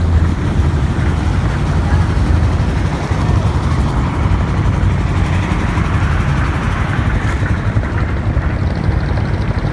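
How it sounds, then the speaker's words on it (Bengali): A boat motors past on the Buriganga river, a steady, loud engine rumble with broad water and hull noise that holds constant and close throughout, with no break in the drone. "এই যে আমার পাশে দিয়ে একটা ইয়া যাইতেছে, বোট যাইতেছে।"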